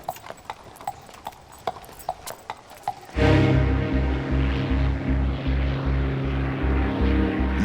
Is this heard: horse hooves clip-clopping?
yes